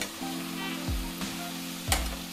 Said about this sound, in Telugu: గోంగూర ఇదిగో ఇలా నూనేసి మగ్గిస్తున్నాం కదా, ఇది ఇలా కలుపుతూ ఉండాలి.